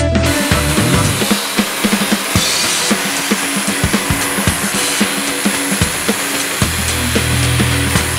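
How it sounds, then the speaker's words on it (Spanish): A power tool whirs steadily while scraping wood off a table being restored, with a constant buzzing drone and frequent sharp clicks and scratches throughout. "Vamos a proceder a hacer el raspado, pero con máquina."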